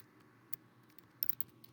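A short, quiet run of computer keyboard keystrokes, a few soft, scattered clicks with a quick cluster of taps near the end.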